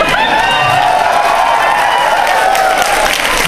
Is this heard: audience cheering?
yes